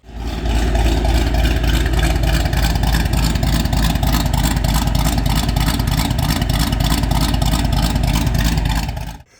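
A loud car engine revs hard and steadily with a rough, pulsing exhaust rumble that holds for several seconds before dropping away.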